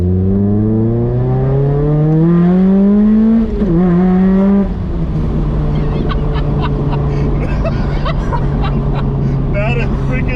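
A nitrous-equipped Mazda Miata roars under full throttle, its engine note climbing steeply through the revs, then dropping after a shift into a steady loud drone, heard close from inside the car with people talking over it.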